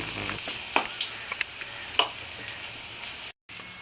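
Light sizzling of soya chunks coated in gram flour frying in oil, with a few sharp pops and crackles, ending in a brief cutoff.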